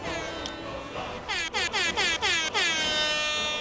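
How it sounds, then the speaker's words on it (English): An air horn blares loudly in a podcast studio: a brief toot, then a rapid run of several short, sharp blasts, and a longer final blast, all close and piercing. "I have enhanced the show by getting an air horn."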